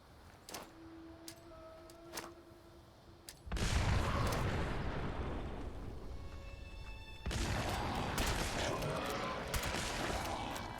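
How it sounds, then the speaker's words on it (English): Nuke grenades detonate in the Fallout 76 video game, with a heavy roaring blast that rumbles on, then a second explosion layered with crackling and whining game effects, preceded by scattered gunfire tones. "We're going to give them a couple nuke grenades."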